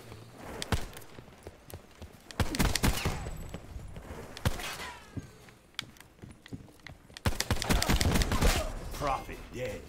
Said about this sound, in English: Pistols ain't bad.